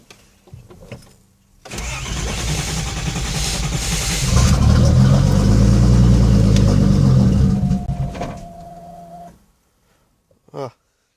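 A Datsun 240Z with a turbocharged L28ET engine cold-starts: a brief crank, then the engine catches and revs up loud and rough for several seconds before shutting off, followed by quiet.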